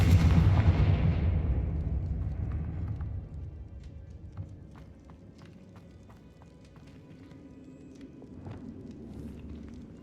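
A Confringo spell blast in the Hogwarts Legacy video game: a loud booming burst at the start that fades into a rumbling tail, followed by scattered sharp clicks and faint game ambience.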